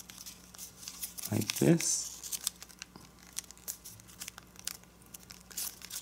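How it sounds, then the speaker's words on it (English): An origami paper dragon is folded close up, with soft crinkles and crisp creasing rustles. One sharper crumple stands out, and a voice speaks quietly between the paper sounds. "fold this flap on this point so that this aligns, and fold it up"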